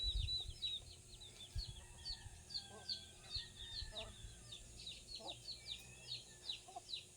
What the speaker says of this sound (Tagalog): Yung ibang manok nasasarapan sila doon.